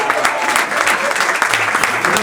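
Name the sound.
applause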